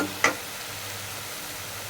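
Tilapia pieces fry in spiced oil in a wok: a soft, steady sizzle runs throughout, with one brief sharp clink of a utensil near the start and no voices.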